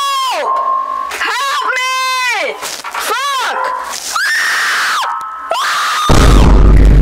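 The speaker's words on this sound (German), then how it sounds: "Was steckt er jetzt schon wieder in einer Waschmaschine und ist wieder am Kreischen wie ein Baby?" A person shrieks and wails like a crying baby from inside a washing machine, loud repeated high-pitched screams in bursts that rise and fall, ending with a rumbling, thumping noise at the end.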